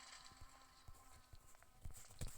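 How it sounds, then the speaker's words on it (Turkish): Footsteps in the horror video game Eyes come as faint, scattered thuds, growing a little louder toward the end over a low background hum. "Ayak sesi çok korktum şu anda."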